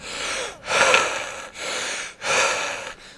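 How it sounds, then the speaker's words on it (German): Heavy breathing through a partly blocked nose, close and loud, with four long rasping in-and-out breaths in a steady rhythm and short pauses between them. "So schnaufe ich im Moment, also. Plus noch meine Nase ein bisschen verstopft."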